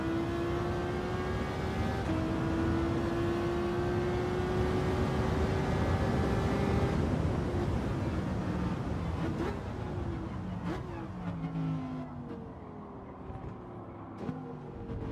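The engine of a race car in a sim racing game holds a steady rising whine, then drops through several quick downshifts as the revs fall and pick up again.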